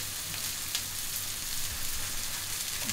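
Minced meat and cabbage patties fry in a heavy cast iron pan, giving a steady, close, hissing sizzle with a few crackles and no talking.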